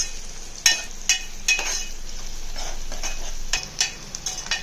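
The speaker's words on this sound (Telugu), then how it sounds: "ఆయిల్ ఇలా కలుపుకొని బాగా మగ్గనివ్వాలి" Onions cook in oil for a mutton curry and are stirred with a spoon. Several sharp scrapes and knocks rise over a soft, steady sizzle.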